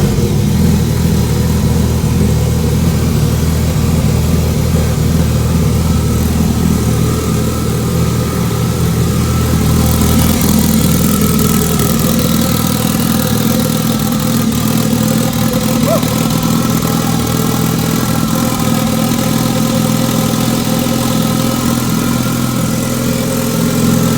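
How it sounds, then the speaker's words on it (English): A Honda race car engine runs at a steady, loud idle after starting, with a low rumbling drone holding throughout and a slight shift partway through. "This is just to get the car started."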